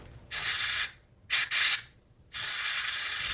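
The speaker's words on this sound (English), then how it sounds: "I should just spray it from the top." Aerosol spray hissing onto the seat belt retractor mechanism of a Mazda RX3, in three bursts: a long spray, two quick short blasts, then another sustained spray, close and fairly loud.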